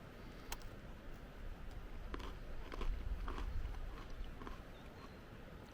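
Several crisp crunches from biting and chewing a crunchy biscuit with sweet fruit jam from a 2023 Italian Armed Forces 24-hour MRE, spread irregularly across a quiet, faint background hiss.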